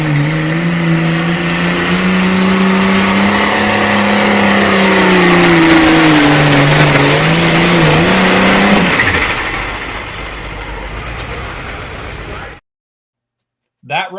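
A pulling tractor's engine roars loud and close through a tractor pull run, holding a strained, steady pitch that wavers and then drops off before cutting to silence.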